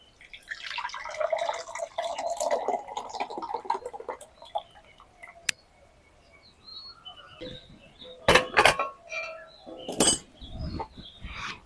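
Kulfi mixture of milk with cardamom poured into a mixer-grinder jar, a soft liquid trickle followed by sharp clinks and taps of utensils against the jar, close and moderately loud.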